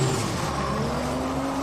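A drift car's engine is revved hard during a drift competition in Malaysia. It sounds as a steady, loud, close mechanical drone with sustained harmonic tones, alone without voices.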